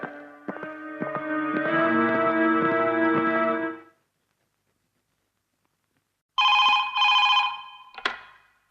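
An old-style telephone bell rings in a movie scene, one long loud trill, a gap of silence, then two shorter bursts and a final clipped ring, clear and close with no talk.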